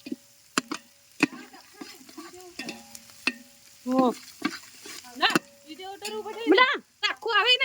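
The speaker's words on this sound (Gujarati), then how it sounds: "બીજા ડુંગળી શેકાવા" Onions frying in oil as a steady sizzle beneath stirring and chopping clatter, while several voices talk over it in a group outdoor cooking setting.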